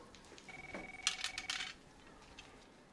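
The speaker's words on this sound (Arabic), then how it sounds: "ردي على التليفون" A telephone rings in a home with a short electronic tone and a clattery burst, then settles quietly. It sounds moderately close and has no voices over it.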